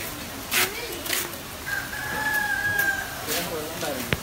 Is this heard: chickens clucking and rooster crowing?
yes